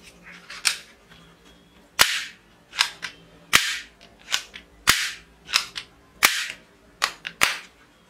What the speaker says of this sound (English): Musical, colorful Chinese toy gun. LED light and sound, musical Chinese toy gun.